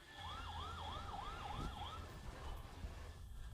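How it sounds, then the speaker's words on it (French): A pickup truck's car alarm wails on a street in Pitanga, Paraná, rising and falling in a repeating cycle over a steady background hum; it is moderately distant and fades after about two seconds. "C'est une alarme de voiture"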